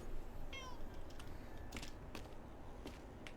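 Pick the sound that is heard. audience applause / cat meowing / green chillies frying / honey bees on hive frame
cat meowing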